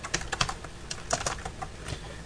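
Rapid typing on a computer keyboard while editing text in a logo design, with irregular clicks and short bursts of keystrokes, close and fairly quiet, no voices.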